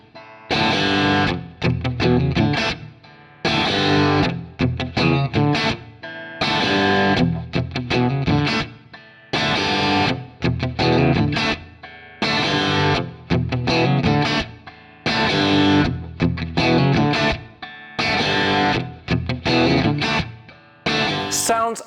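A 2024 Fender Limited Edition Thinline Stratocaster played through a Fractal FM9 on a JTM 45 amp preset, loud overdriven chords and riffs in repeated bursts separated by brief pauses, with no voices.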